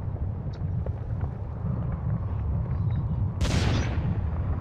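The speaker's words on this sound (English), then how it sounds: "I just shot my main cannon." A tank's main cannon fires in the Stormworks video game, a sudden loud broadband blast about two thirds of the way in that rings out over a steady rumble of wind-like noise.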